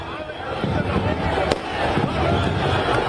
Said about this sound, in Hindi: जगह जगह पर आतिशबाजी का दौर देखने को मिला